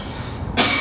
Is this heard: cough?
yes